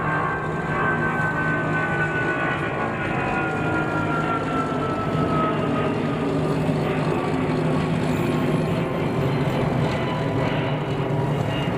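An American Airlines Boeing 777 passes overhead near King County International Airport, a broad steady jet roar that sweeps slowly downward in pitch, sustained and fairly distant.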